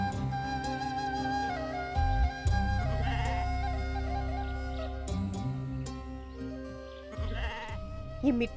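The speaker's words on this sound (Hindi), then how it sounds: "मैं बकरी को आटा दे के आती हूँ।" Goats bleat repeatedly at a rural village home, several long wavering cries in close succession, loud and near, with quiet background sounds between calls.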